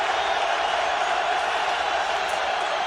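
A football stadium crowd at a 2008 Dallas Cowboys at Philadelphia Eagles game gives off a steady, dense roar that stays constant and fairly loud throughout, with no break or single standout cheer.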